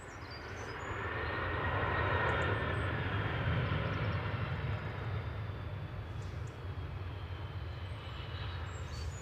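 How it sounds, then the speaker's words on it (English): Aer Lingus UK Airbus A330-300 touching down on arrival from New York JFK, a soft, steady engine rumble that swells gently early on and then holds at a distance. "A330-300 for Aer Lingus UK just touching down"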